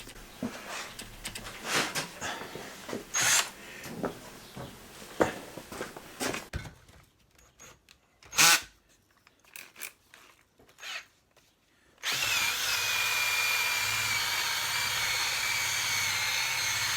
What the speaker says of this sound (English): Now let's get my pistol drill.